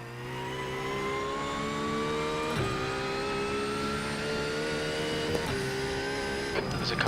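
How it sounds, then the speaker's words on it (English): A race car engine in a racing video game, recorded as the car leaves the pits, gives a sustained, rising engine whine whose pitch climbs steadily, broken by a few brief gear-change dips, with no talk over it. "There's a car leaving the pits."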